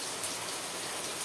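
Steady rain falls outside a home in August, a dense, even hiss throughout with no voices.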